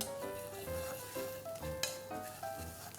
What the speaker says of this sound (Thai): ผัดให้เข้ากันครับ